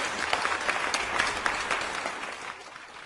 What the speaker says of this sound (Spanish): A ver si se escuchan los aplausos